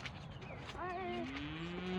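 A borrowed bull in a farm pasture near a pond gives a long, low, rising moo, fairly close and loud, heard against light outdoor background noise.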